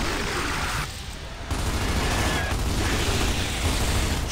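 Sustained gunfire from the Gears of War 2 video game, a dense continuous barrage that dips briefly then surges back loud and steady alongside other battle noise.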